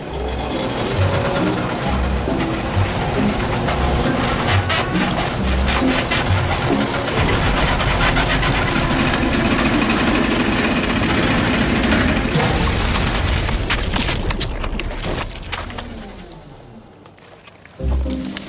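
A milk engine powering a voice-activated pudding dispenser runs with a loud, continuous mechanical rumble and growl, steady for most of the span before winding down near the end, with a brief restart at the close.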